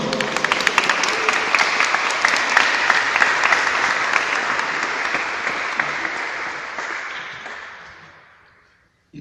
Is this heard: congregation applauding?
yes